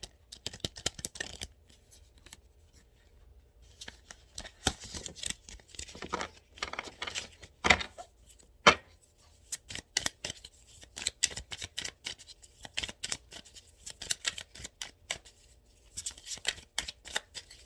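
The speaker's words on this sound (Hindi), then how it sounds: "मैं आप लोगों के सामने शफल कर रही हूँ, ये करंट फीलिंग के लिए ही है खाली।" Tarot cards are shuffled by hand in a quiet room, giving repeated close, crisp riffling and slapping bursts in irregular clusters with short pauses between them; no one speaks.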